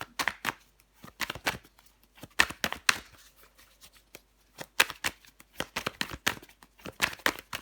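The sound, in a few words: tarot cards being handled and laid down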